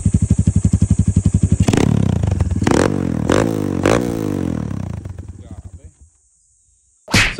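Motorcycle engines idle with a steady throbbing rhythm on a hard trail at Sitio Balatong, then rev and rise in pitch, before cutting to near silence and a brief final burst.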